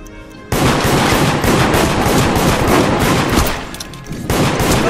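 Sustained automatic gunfire in the online horror game Deceit, loud and continuous bursts with a brief dip before resuming, no talk heard.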